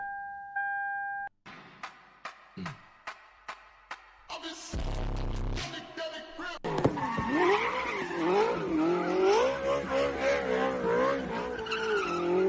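A Toyota Supra skids with loud, wavering tire squeal that rises and swoops over engine noise for several seconds, following a series of sharp clicks and a brief burst of revving.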